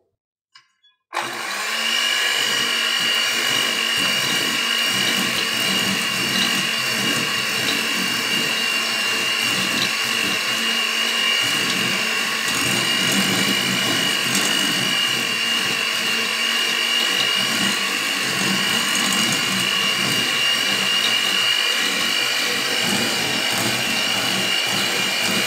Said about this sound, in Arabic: وبعدين أضيف عليها السكر وأضربها دقايق لحد ما أحس أن السكر امتزج بالزبدة